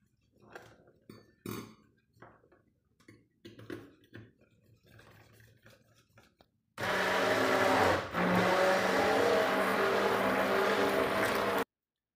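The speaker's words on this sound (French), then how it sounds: "je vais prendre mon mixeur plongeant pour bien mélanger tout ça" An immersion blender mixes crêpe batter for Berber crêpes (tighrifine), a loud, steady whir lasting several seconds after a stretch of talk and kitchen clatter.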